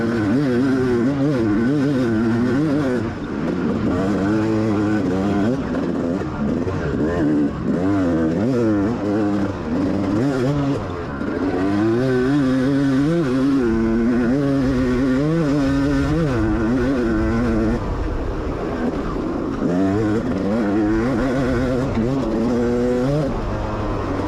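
Motocross bikes on a dusty first race lap, with one rider's engine heard up close, revving hard and rising and falling through gear changes, loud and continuous.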